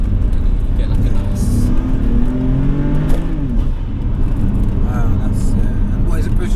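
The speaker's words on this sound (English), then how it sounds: "so the induction noise on it, you can hear" HCP-tuned 560 bhp BMW M4 convertible with loud induction noise as the engine revs, rising and falling intake roar close by under someone talking.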